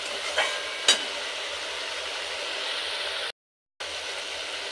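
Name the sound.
spice paste (masala) being sautéed and stirred in a pan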